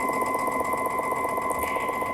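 A Baby Lock Altair sewing machine stitches through a single layer of thin tissue, giving a steady, close, continuous motor whir with a rapid needle rhythm that runs unbroken and alone.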